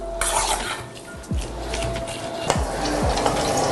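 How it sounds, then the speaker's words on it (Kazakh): Marinated horse meat fries in a pan, a steady sizzle under repeated scraping and clinking of a utensil against the pan. "табаға қуырып аламыз қазір."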